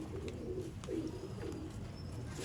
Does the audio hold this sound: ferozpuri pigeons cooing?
yes